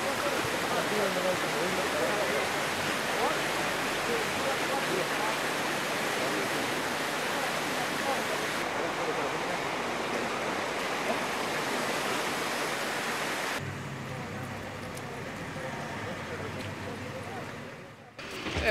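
The flooded Xerias river in Greece rushes past in a dense, roaring wash of water that stays steady and loud throughout, eases slightly near the end, and briefly carries a voice.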